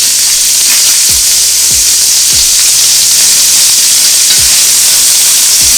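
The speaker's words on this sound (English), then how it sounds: "Hit the sides, look at that sizzle." Chinese BBQ spareribs frying in a hot pan give a loud, constant crackling sizzle, with several sharp knocks of a utensil or the meat being turned at irregular intervals.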